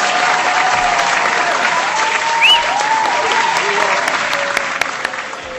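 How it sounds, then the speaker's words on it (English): Sustained audience applause filling the room at a live show, a dense, loud, even wash of clapping from a crowd with faint voices and a few whoops mixed in. "Can we get everyone to give us a applause here?"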